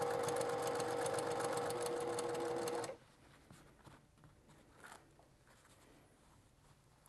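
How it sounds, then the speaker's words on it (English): A sewing machine stitches a straight line through layered quilt fabric, a fast, steady mechanical whirr lasting about three seconds before it stops abruptly, leaving quiet room noise with faint small handling sounds. "I'm just going to sew that straight line."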